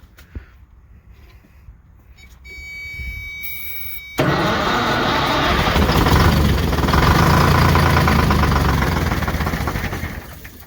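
Old GMC Crackerbox truck engine, long unstarted, cranks quietly, then catches with a sudden loud burst and settles into a rough, rising rev that swells and fades near the end, alone and close.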